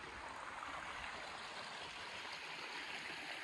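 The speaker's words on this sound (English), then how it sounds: "We've got this beautiful creek that you can't see" A creek in the Dandenong Ranges flows steadily, a soft continuous wash of rushing water with no breaks, moderately quiet and alone without voices.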